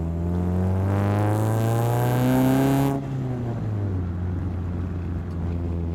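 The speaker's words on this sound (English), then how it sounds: "what I like about this exhaust in this little car, like it sounds like it's accelerating to such an extent" A small Chevrolet Spark's exhaust revs up with a rising, burbling drone that holds for a few seconds, then drops back to a steady low idle.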